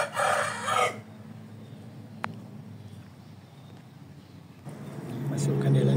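A serama rooster crows in short bursts near the start and again toward the end, with someone talking in between and over the calls.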